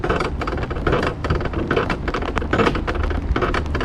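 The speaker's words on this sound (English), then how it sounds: "It's raining." Rain falling during a ride on the Wild Stallion mountain coaster at Skyland Ranch, heard as dense, continuous patter and rushing noise with irregular sharp taps, loud and close throughout.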